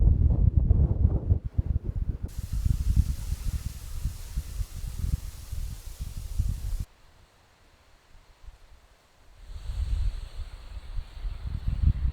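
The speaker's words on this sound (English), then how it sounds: "It's very gusty out there." Gusty wind buffets the outside of a cabin in loud, rough rushes over the first seconds, drops to near quiet, then swells again toward the end.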